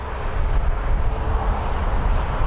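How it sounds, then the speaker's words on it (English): An Airbus A320 departing at night from Toronto Pearson, a low, broad jet roar rumbling steadily at a distance with no clear rise or fade. "All right, A320, a night departure."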